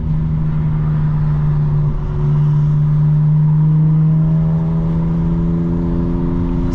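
A 2025 BMW M4 Competition xDrive in rear-wheel-drive mode with full sport settings hums steadily under way, its engine note holding a constant drone and then rising gradually in pitch as it accelerates, loud and close throughout.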